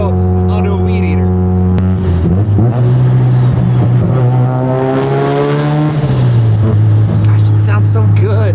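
A small turbocharged car engine with a buzzy, high-strung note revs hard in back-to-back pulls, loud and close, rising, dropping and rising again while voices talk over it.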